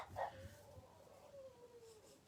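Pet dog at home in a house kitchen, one short high yip that trails into a thin, falling whine, faint and alone against a quiet room.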